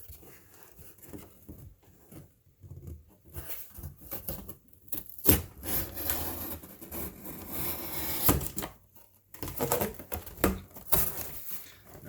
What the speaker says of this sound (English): So all that you need is a box cutter. Always cut away from yourself. And I am going to just cut this off.